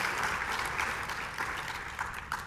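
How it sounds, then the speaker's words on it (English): An audience at a global summit on Angelman syndrome gives a steady round of applause, dense clapping rising and easing slightly without any talk. "Yes, round of applause."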